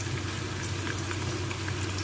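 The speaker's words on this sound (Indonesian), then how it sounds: "Pertama-tama kita goreng dulu ya bawang bombaynya." Onions fry in hot oil for a biryani, producing a steady, dense sizzle with scattered crackles and no talking.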